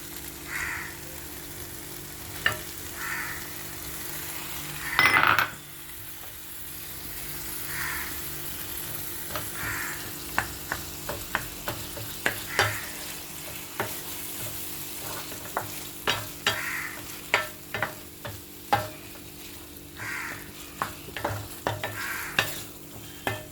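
Mutton keema frying in a pan, a steady close sizzle broken by frequent sharp scrapes and clinks of a spoon stirring against the metal, with one louder clatter early on; no voices.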